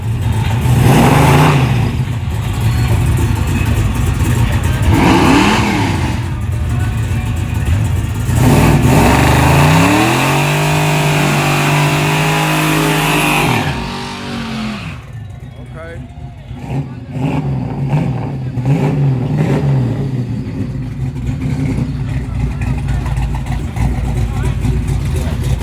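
Drag racing cars at Yellow Belly rev and accelerate for rim racing, with engines surging, rising and falling in pitch amid crowd noise, while people talk over them throughout.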